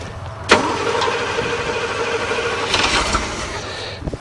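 A 1984 Chevrolet Camaro Berlinetta engine cranks briefly and catches, then settles into a steady, fairly loud idle with a few revs near the end, no voices over it.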